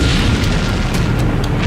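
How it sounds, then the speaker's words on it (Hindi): Tank struck by a drone explodes in a war zone, a loud sustained boom with a rumbling, noisy roar that fills the whole moment without any voices. "इसके बाद यह टैंक चलता रहा और फिर ऐसा धमाका।"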